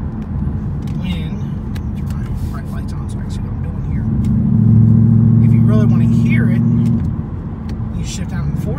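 Roush exhaust on a 2017 Ford Mustang GT rumbles steadily while driving, then swells into a louder, deeper drone for a few seconds as it downshifts to fourth gear before settling back, with someone talking throughout.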